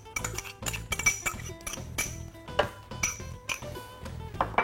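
A utensil scrapes and clinks against a bowl while pesto cream is spread over couscous, a close series of irregular metallic taps and scrapes with no talk.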